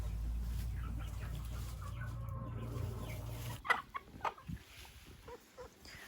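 A brooding hen back on her eggs gives a few soft, low clucks close by, faint against a steady low hum that cuts out partway, with light rustling afterward.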